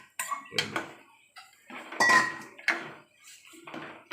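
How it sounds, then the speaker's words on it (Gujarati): Chickpeas are tipped into a thick tomato gravy in a pot, giving a few separate clattering knocks and scrapes of metal utensil against cookware, close and fairly loud, with quiet gaps between them. "જો મસ્ત ગ્રેવી થઈ ગઈ જાડી, અંદર ચણે નાખી દઈએ."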